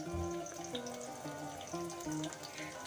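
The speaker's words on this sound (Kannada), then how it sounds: "ಇಲ್ಲಿ ಸಣ್ಣದಾಗಿ ಹೆಚ್ಕೊಂಡಿರೋ ಈರುಳ್ಳಿನ ನಾನು ಕಾಯ್ದಿರೋ ಎಣ್ಣೆಗೆ ಹಾಕೋತಾ ಇದ್ದೀನಿ" Finely chopped onions dropped into hot oil, a steady dense hiss of frying close by, with a faint hum running underneath and no voices.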